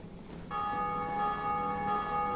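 A bell is rung in the video game Dark Souls, striking once to produce a clear, sustained ringing tone with steady overtones that hangs on to the end, alone over faint background.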